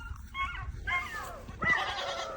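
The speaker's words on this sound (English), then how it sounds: "Come on, you got the dogs going, the goats going." Goats bleat in loud wavering cries while dogs bark close by, the animal calls overlapping in bursts over a low rumbling background.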